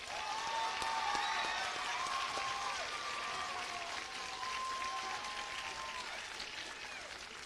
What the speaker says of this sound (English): So I want to give every one of these a round of applause one last time.